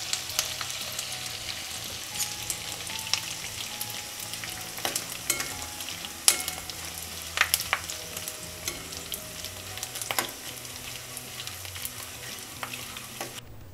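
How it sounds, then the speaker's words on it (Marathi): Edible gum (dink) fries in a pan over medium heat, a close steady sizzle with scattered crackles and pops and occasional stirring scrapes. "डिंक हा नेहमी करता मध्यम आचेवरच तळायचा आहे"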